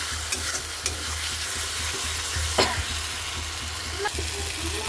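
Food is sautéed in hot oil tempered with bay leaf and cumin, giving a steady, close sizzle over a low hum, with scraping stirs and occasional clicks of the spatula.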